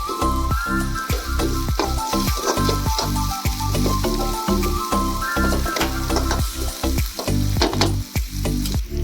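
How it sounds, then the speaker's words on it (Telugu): Ingredients fry in oil in a pan, a loud, continuous sizzle with crackling and stirring scrapes close by, and no talking. "ఇలా బాగా కలుపుకొని నూనెలో మగ్గనియాలి"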